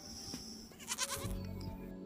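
A lamb bleats a few times close by, short wavering cries with soft background noise between them.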